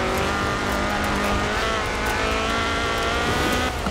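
A Ford RS 1800 rally car in Forza Horizon 4 roars at high revs, a loud continuous engine note with steady harmonic drone and slight pitch shifts, close and sustained across the whole stretch with no talk.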